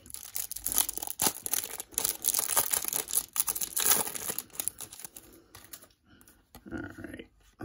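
A Pokémon card pack wrapper being torn open: sustained crinkling and ripping of thin foil-like plastic, close and fairly loud for several seconds, then quieter rustling.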